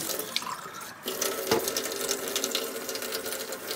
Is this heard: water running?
yes